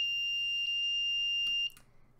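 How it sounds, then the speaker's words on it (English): A homemade Arduino alarm clock sounds its alarm, a loud, continuous high-pitched electronic tone heard close up that cuts off abruptly near the end, followed by faint handling noises. "send alarm"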